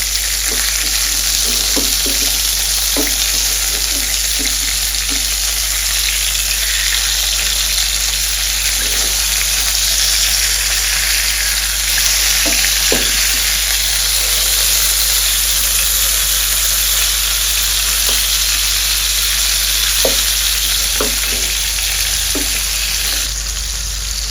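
Silond catfish pieces fry in a pan with oil, a loud continuous sizzle and hiss up close, dotted with small pops and spatters throughout.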